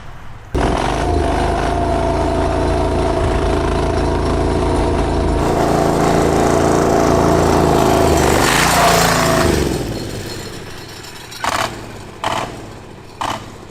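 A giant Chinese diesel V-twin engine on a go-kart runs loud and close with a steady heavy drone, rising slightly before easing down, followed by a few short revving bursts.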